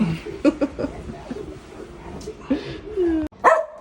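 A dog barks and yips several times in short bursts close by, with a whimpering tone, while a person talks and laughs lightly in the background as the garbage truck approaches.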